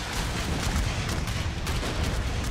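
Massed musket or rifle volleys from infantry units in the strategy game Unequal Treaties, a dense continuous crackle of overlapping shots rolling on steadily throughout, loud and close with no voices.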